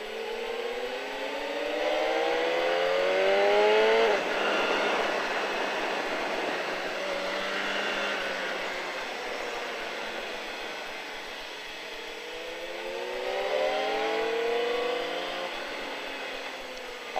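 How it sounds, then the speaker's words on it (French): A motorcycle leaning into a corner on the Le Vigeant race track, its engine whining and rising in pitch as it accelerates. The sound is steady and moderately loud, with repeated upward revving sweeps and no voices. "on couche la moto et on accélère"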